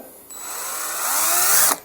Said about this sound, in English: So what we're going to do is drill in the centre.